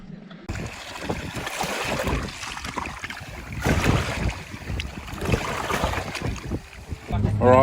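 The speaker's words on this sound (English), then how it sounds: "It is bloody windy." Strong gusty wind roars steadily across the microphone outdoors, rising and falling in loud rushes throughout.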